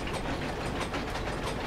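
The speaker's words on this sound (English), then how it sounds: "Let's try and stop this noisy freaking machine then." A noisy geared machine in the video game Amnesia grinds and ratchets continuously, close and loud, with a dense clattering mechanical rhythm and no voices.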